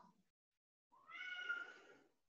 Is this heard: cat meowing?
yes